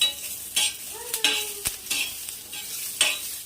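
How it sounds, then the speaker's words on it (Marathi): Chili and five or six garlic cloves are sautéed in a pan on low heat for sesame chutney; a soft sizzle runs beneath sharp spatula scrapes and clinks against the pan, close up, with no speech. "आपण लसण पाच ते सहा पाकळ्या छान असं परतून घ्यायचं"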